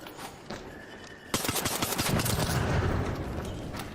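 Gunshots in Arc Raiders start as a few scattered cracks and then become a loud, sustained string of rapid shots lasting several seconds.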